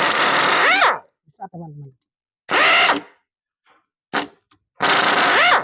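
Tekiro pneumatic air impact screwdriver firing in three loud, close bursts of roughly a second each, with a brief spoken phrase between them.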